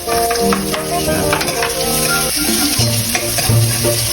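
Onion and garlic sizzling loudly in a hot pan, a dense continuous crackle and hiss with stirring and scraping sounds on top, close and unbroken with no talking.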